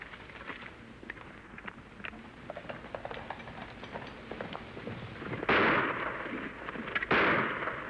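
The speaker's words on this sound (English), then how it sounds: "Don't come any closer, or this time I won't shoot over your heads." Two sharp gunshots ring out in an old Western radio drama, each a loud crack with a short echoing tail, fired a second and a half apart over faint background rumble.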